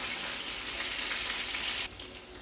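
Garlic-crusted lamb chops sizzle in a hot pan, a close, bright hiss of frying that drops off sharply near the end.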